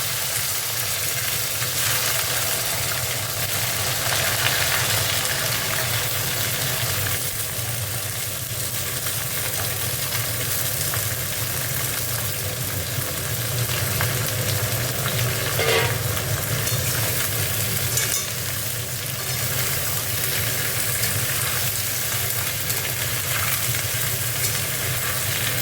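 Vegetables for a vegetarian labra fry and get stirred in a pan, making a dense, steady sizzle throughout with occasional scraping from the stirring and no talk.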